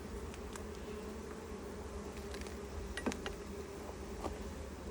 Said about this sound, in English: Yep, lots of bees.